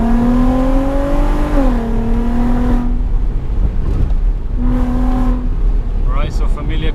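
A loud VW Golf R32 engine accelerating, a strong tonal drone that rises and falls in pitch through gear changes, with brief revs near the end.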